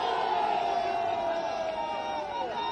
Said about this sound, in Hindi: सभी लोग ताली बजाइए।